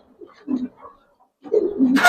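Large Giribaz pigeons give short, low coos in two bursts separated by a pause, close and fairly loud, with a brief rustle at the end.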